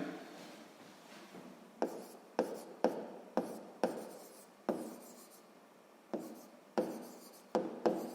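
Pen writing on paper during a 5th-grade math exercise, a quiet continuous scratch broken into a string of short sharp strokes and taps, close and alone with no talk.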